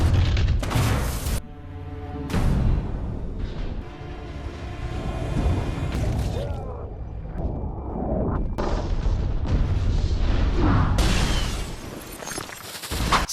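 A grenade goes off in a film scene, a loud booming blast followed by rumbling debris and layered crashing effects, with further explosive bursts and swelling noise through the passage.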